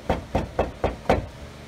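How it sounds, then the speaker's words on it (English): Five hard, evenly spaced knocks on a door in an old furniture store ring out close and loud, each a sharp thud with a short hollow decay, then quiet. "if you knock real hard"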